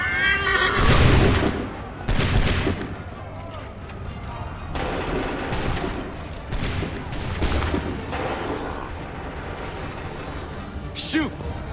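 A volley of musket gunshots in Assassin's Creed 3 cracks out in several loud bursts, mixed with horses whinnying and shouted voices.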